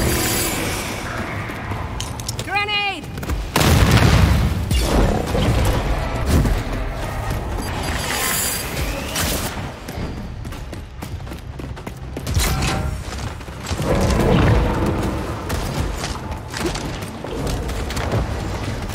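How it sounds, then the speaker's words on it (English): A grenade explodes amid combat in the video game Second Extinction, a heavy boom within a dense, loud barrage of gunfire, impacts and mechanical clatter that rolls on continuously. "Grenade!"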